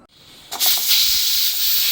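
After a brief quiet start, a loud, steady jet of hissing steam bursts from a pressure cooker of cooked toor dal and keeps rushing without letup.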